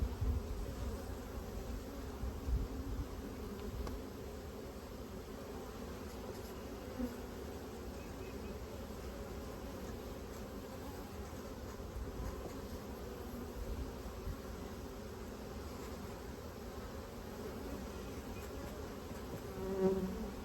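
Honey bees drone around a spring hive split, a dense continuous buzz of many insects, close and steady throughout.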